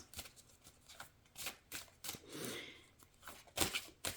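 Sacred Spirit oracle reading cards are shuffled by hand in a series of close, soft riffling bursts and taps, repeated at an uneven rhythm.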